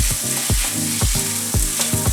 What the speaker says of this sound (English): you just want to put your potatoes in the pan and put them in a layer as thin as you can get them